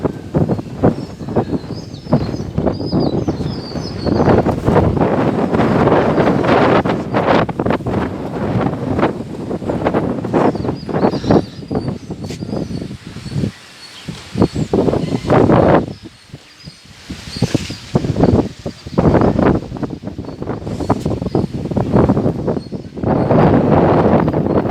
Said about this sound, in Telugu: కొంచెం గాలి ఎక్కువ వస్తుంది అంతే ఈ టైంలో.